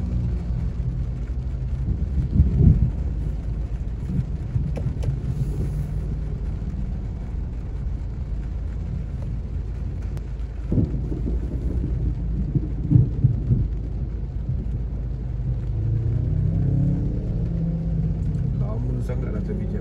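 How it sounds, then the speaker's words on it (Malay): Rain and a thunderstorm outside a car stuck in slow traffic, steady low rumbling wash throughout with a few louder rolls of thunder; faint voices come through at times. "pasti bunyi hujan pun dia masuk dalam video lah"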